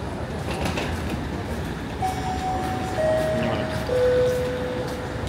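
A PKP Intercity train stands at a station platform, with a low rumbling hum, a few high tonal squeals or whines, and general platform noise.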